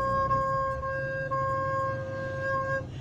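A steady recorder (flute recorder) note held with all holes properly covered, a clear pure tone sustained for about three seconds, moderately close and alone.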